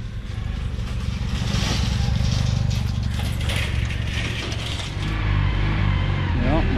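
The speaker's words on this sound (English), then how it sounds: "Here comes the farm truck." Farm truck rolling past on wet ground, a steady loud engine drone and tyre rumble close by, holding level throughout with a brief rise near the end.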